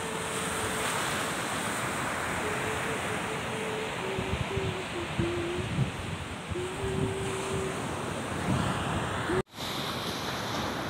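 Continuous roaring wind mixed with crashing surf at Sentinela Beach, Claveria, Cagayan, loud and unbroken, with a faint tonal hum running through and a brief dropout near the end.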